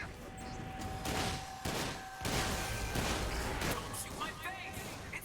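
Gunfire in the video game Sunset Overdrive: several loud, dense bursts of shots and impacts sound over a busy, continuous game soundscape, with talk heard throughout.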